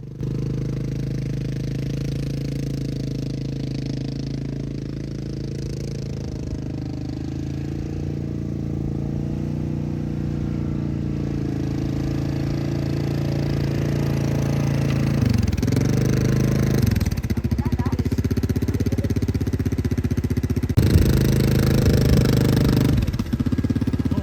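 A quad bike engine runs steadily close by, a droning mid-range hum that holds for a long stretch, dips and surges briefly as the throttle changes, then settles back to a constant run.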